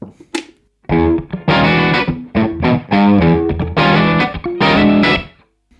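Loud overdriven electric guitar through a REVV D20 amp on its Studio A reverb, playing a phrase with chords and single notes, each ringing into a roomy reverb that lingers as the phrase ends.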